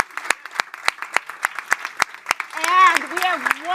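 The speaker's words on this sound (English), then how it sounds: "Please give me a round of applause." Audience applause for a panel at an anniversary event, with evenly spaced claps that sound fairly close. A voice starts talking over the clapping near the end.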